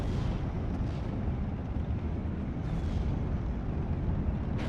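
Anti-aircraft guns firing in the World War II strategy game Steel Division: Normandy 44, with a dense, continuous rumble of bursts and booms over a steady battle din throughout.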